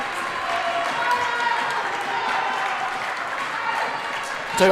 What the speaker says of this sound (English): this Brookville crowd, they've not stopped clapping yet